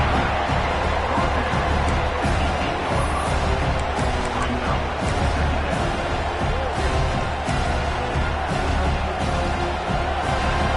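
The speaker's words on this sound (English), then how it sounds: "And here comes the noise. This crowd is trying to inspire this defense" A large stadium crowd roars steadily at an American football game, a broad wash of cheering and noise that holds at the same level throughout.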